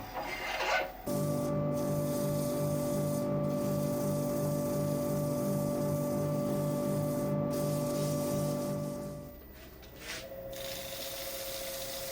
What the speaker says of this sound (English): And that's now ready to sand.